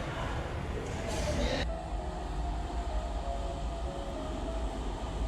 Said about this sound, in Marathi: आपली वनाजची मेट्रो आलेली